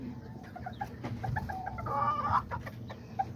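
Pumpkin gamefowl hens and a rooster, molting, cluck in a backyard coop with short repeated clucks and one drawn-out call, close by and moderately loud over low background noise.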